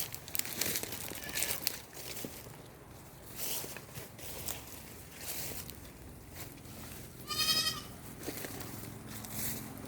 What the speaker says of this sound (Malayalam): ഇത് കുള്ളൻ ആടാണ്